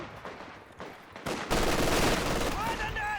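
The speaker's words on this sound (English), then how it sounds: "A couple nasty shots from the Grenadiers" Grenadier rifle shots from Company of Heroes 2, a loud burst of gunfire that swells midway and holds dense and close, mixed with other battle noise and faint tonal chirps near the end.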